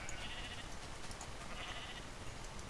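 Sheep bleating in the Minecraft video game, a steady bleat repeating twice over a constant background din of game ambience, with no talking.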